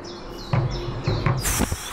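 Short rainforest bird chirps and tweets sound twice over a steady background hum, followed by a brighter burst of calls near the end.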